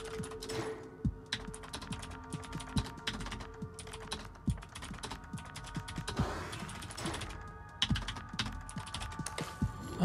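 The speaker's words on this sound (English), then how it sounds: "Oh, I'm not used to fucking typing fake words." Rapid, uneven keystrokes on a computer keyboard during a typing horror game, close and crisp in irregular bursts with brief pauses, with game tones and low rumbles underneath.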